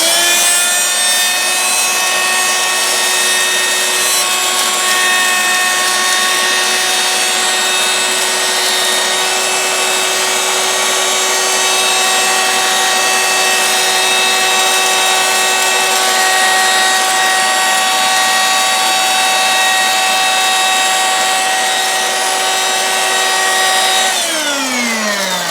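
A handheld cordless vacuum cleaner whines steadily with a high motor tone as it sucks debris from around the cleats of a carpet or surface, close and loud, with a brief pitch shift near the end.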